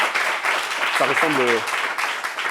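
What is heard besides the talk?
applause for the mothers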